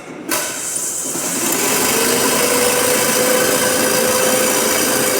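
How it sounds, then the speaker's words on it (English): A DC series motor started through a two-point starter spins up after a brief click, its whine rising and then holding as a steady, loud hum with a faint tonal pitch. "the motor is to be start using 2 point starter"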